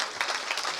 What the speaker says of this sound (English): we should give them an extra round of applause